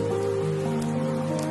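Rain falls steadily at an upscale residence, a continuous soft hiss that carries a low steady hum beneath it, even in loudness and with no voices.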